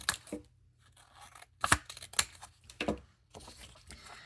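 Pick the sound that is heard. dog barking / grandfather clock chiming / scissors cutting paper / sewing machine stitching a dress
scissors cutting paper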